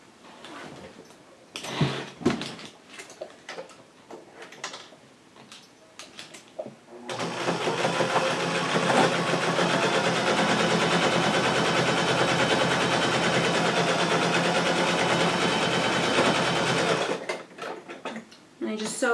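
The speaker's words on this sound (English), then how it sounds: "So we'll head over to the sewing machine." A sewing machine stitches the long edges of a tote bag, a steady continuous whir running for about ten seconds after some quieter handling noises, then stopping.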